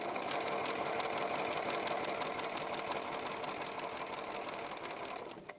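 A sewing machine stitches through paper to perforate it, running in one steady, close, fast whir that holds for several seconds before stopping abruptly at the end.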